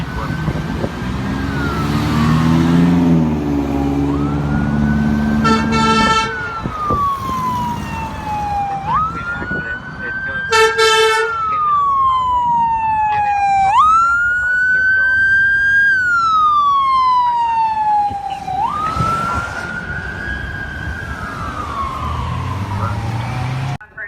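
Fire trucks responding to a residential fire alarm sound a loud wailing siren that sweeps up and down repeatedly, broken by several short airhorn blasts, with traffic noise underneath.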